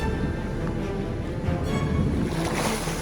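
Waves surge and wash against small Lego boats in a wave test, a loud, close, continuous churning of water with a swelling rush near the middle, and no talk.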